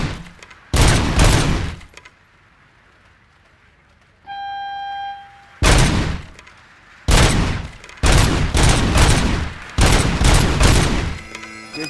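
Bursts of gunfire from the Robocop video game come in sharp, loud volleys, a few separate blasts and then rapid strings of shots, with a brief electronic tone sounding between them.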